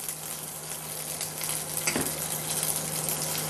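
Green chillies and curry leaves fry in hot oil with a dense, continuous sizzle and crackle that swells slightly partway through, steady and close with no talking.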